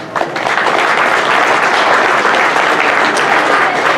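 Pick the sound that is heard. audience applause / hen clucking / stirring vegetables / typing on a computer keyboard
audience applause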